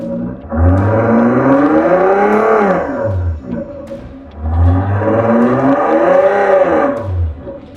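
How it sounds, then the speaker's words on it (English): A simulated Lamborghini exhaust roars loudly from a speaker on a car sound system, revving up and settling back down twice, with a steady electronic hum underneath. "So I think it's set currently to a Lamborghini sound."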